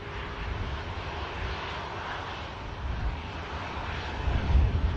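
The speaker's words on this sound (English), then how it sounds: "This departure dedicated to Rastaman himself." An airliner departing Manchester Airport, a steady broad engine roar heard from a distance and building slightly louder toward the end, with no talk over it.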